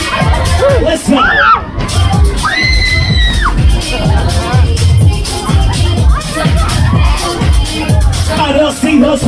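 A crowd at a Halloween event cheers and screams loudly and continuously, with high shrieks and whoops rising above a dense babble of voices.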